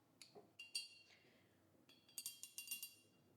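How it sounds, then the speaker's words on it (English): A watercolor paintbrush taps against a glass of rinse water, making faint, bright dings: a few scattered clinks, a pause, then a quick run of rhythmic ringing taps close by. "I like the sound of the paintbrush on the glass."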